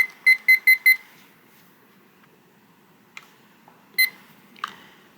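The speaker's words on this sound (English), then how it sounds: "Once the timer rings, press stop" A timer alarm rings in quick bursts, four sharp electronic beeps in a row, then after a pause a single beep and another brief chirp, close and clear in a quiet room.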